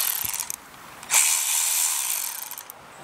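Ratchet wrench loosening the head bolts on a Briggs & Stratton 190cc engine from a Toro TimeMaster mower: a rapid, close run of metallic pawl clicks, a short pause and thud, then another steady clicking run.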